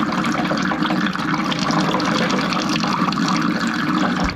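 Fluid pours steadily out of the front end of a 1990 Jeep XJ with a 4.0 engine during a teardown, a constant rushing splash with no break, close and fairly loud.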